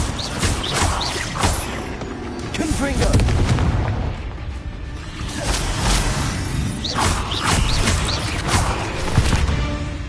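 Repeated fiery blasting spells explode in the Hogwarts Legacy video game on PS4, loud booms and whooshes piling up in a dense, continuous battle din with voices mixed in.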